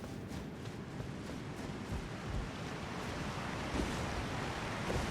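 Waterfall on the Altus Plateau in the video game Elden Ring, a continuous rushing roar of falling water, soft and steady with slight surges, heard on its own.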